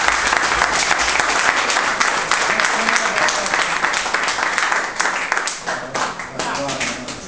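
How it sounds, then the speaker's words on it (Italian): Loud, dense applause and clapping from a crowd celebrating a table football tournament win in a games room, sustained throughout with voices talking and calling out over it. "Voglio un applauso"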